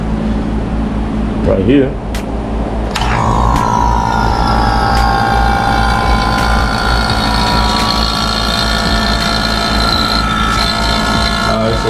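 A 1976 Cadillac Eldorado air-conditioning pump running, a steady mechanical hum with a rising whine that starts up partway in and holds continuously, with a brief voice over it.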